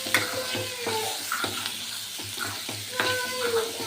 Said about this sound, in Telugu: ఫ్రై చేసిన వెంబడి ఇంకా ఆలు మొత్తం వేసేస్తున్నాను. మొత్తం వేసేసి మొత్తాన్ని కలుపుతున్నాను.